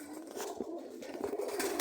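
A pigeon coos close by in a home setting, soft repeated throaty calls over a quiet background.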